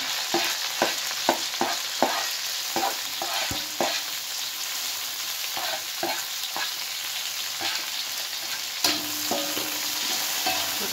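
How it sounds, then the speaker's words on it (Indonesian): Chili and tomato sauté in a pan with a steady close sizzle, punctuated by a string of sharp spatula taps and scrapes early on and more stirring scrapes later. "kita tumis sampai layu"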